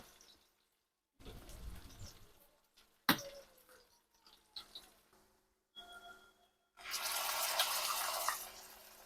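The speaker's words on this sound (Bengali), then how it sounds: "ব্লেন্ডারে জার ধুয়ে একটুখানি পানি দিয়ে ধুয়ে নিলাম" A blender jar is rinsed with a little water at a kitchen sink, with short bursts of running water, a sharp knock and clinks, then a steady, fuller gush of water at the end, with no talk.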